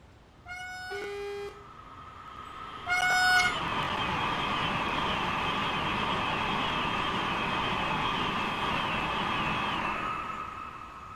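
ICE train in a train simulator game rushing past a platform, preceded by two short electronic tone chimes, then a sustained loud whine and rumble that holds steady before fading.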